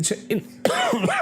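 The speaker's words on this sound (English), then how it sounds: "Still got a bit of a cough." A few short, breathy coughs in quick bursts, close up, separated by brief pauses, with a voiced throaty quality.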